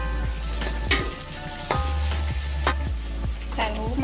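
Curly chilies frying in a pan with shallots and garlic sizzle steadily up close, punctuated by sharp scraping clanks of a spatula stirring every second or so.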